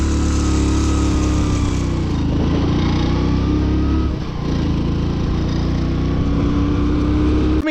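A car engine with an abnormal running noise on a mountain road in Ladakh, a loud, steady drone with a rough buzzing edge, close and continuous, briefly dipping midway before resuming.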